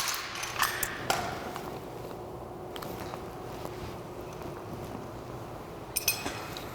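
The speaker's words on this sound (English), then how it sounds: "disassemble the weapon into the following groups, ensuring all parts are on the correct nomenclature labels" Metal parts clicking and clinking as an M240 machine gun is taken apart, scattered sharp close taps and pings, clustered near the start and end, over a quiet room hum.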